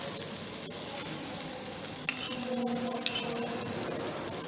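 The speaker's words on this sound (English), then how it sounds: "Now last we can add fresh parsley and again mix well." Fried potatoes with fresh parsley sizzle steadily in a pan while being stirred, a constant hiss with a couple of faint scraping clicks.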